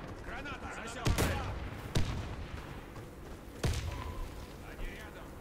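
Grenade blasts and gunfire in the shooter game Warface: three sharp, heavy explosive bursts land a second or two apart amid ongoing combat noise, with voices calling out between them.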